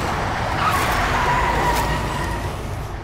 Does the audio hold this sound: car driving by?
yes